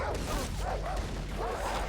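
Dogs in the first-person shooter game Far Cry 3 yelp and bark in a steady, busy stream of game noise, with a few short sharp cries rising over a constant low rumble.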